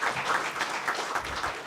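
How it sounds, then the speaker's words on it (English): A brief burst of audience clapping at a Kenyan rural private hospitals association convention, moderate and somewhat distant, with a few faint voices mixed in. "A round of applause for Wakili."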